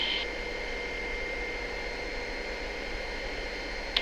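Steady, broad engine roar of a helicopter in flight near Queenstown, New Zealand, continuous and even throughout with no voices.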